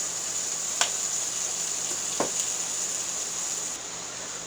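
Hamburger gravy with pepper cooks in a cast iron pan, giving a faint, steady sizzle broken by a couple of light clicks.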